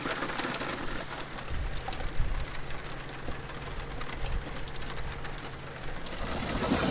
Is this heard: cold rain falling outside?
yes